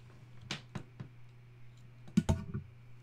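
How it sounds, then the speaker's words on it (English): A few sharp taps on a computer keyboard's up arrow key sound close by, spaced irregularly, with a quick cluster of clicks near the end over a faint steady hum. "I can use the up arrow in my keyboard"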